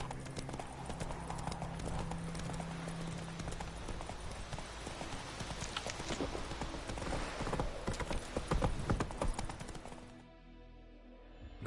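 Roach the horse runs in The Witcher, with steady clip-clop hoofbeats that stay loud and close under a dense game soundscape before cutting off abruptly near the end.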